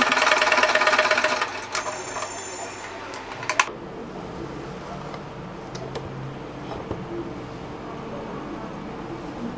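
A sewing machine runs in a brisk, close burst for about three seconds while stitching a frilled pillow cover made from old tops, then stops, followed by quieter handling sounds.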